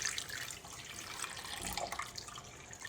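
Warm tap water runs steadily from a faucet into a bowl for making bread dough, a continuous close hiss and splash with no talking.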